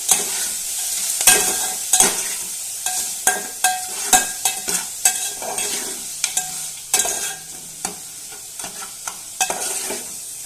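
Spice paste sizzles in a pan with a little lentil water as a spoon scrapes and stirs it in brisk, repeated strokes, close and clear with no talking.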